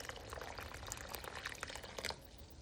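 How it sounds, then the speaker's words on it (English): Water being poured into a cooking pot for a Jamaican chicken foot soup, a quiet, continuous splashing and gurgling pour that runs steadily for a few seconds. "Add some more water to the pot."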